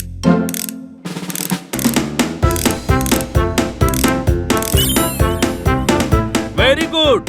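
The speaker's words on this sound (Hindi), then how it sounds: "राइट के 4 स्क्रू खोलने हैं" Cartoon sound effects of a cage's four screws being unscrewed, a loud rhythmic series of ratcheting clicks and squeaky turns over a bouncy background tune, with a few whistle-like slides near the end.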